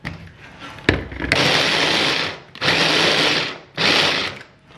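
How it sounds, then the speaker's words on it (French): A food processor chops carrots in three loud whirring bursts of a few seconds each, with short pauses in between and a brief knock just before the first run. "Tac, je vais déjà mixer ça."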